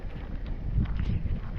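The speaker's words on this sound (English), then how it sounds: "A little bit windy this morning." Low, blustery morning wind at a campground rumbles steadily across the microphone, gusting unevenly with no other clear sounds.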